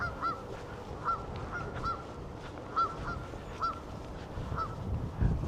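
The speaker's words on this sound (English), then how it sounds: "Let's say hello to these geese." Geese near the water in the Oxfordshire countryside honk repeatedly in a loose, uneven series of short nasal calls, some doubled. They sound moderately close over steady outdoor background noise, with no talk.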